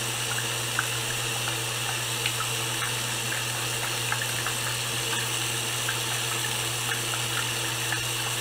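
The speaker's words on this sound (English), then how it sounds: "But if just washing hands for just only 20 seconds" Hands are washed under a running tap, a steady close stream of water splashing and gushing without a break, with faint irregular splatter on top.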